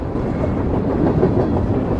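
Steady rumble of a moving train carriage in the horror game Darkness Within 2, a continuous low rolling drone with faint rhythmic clatter, close and even throughout with no talk.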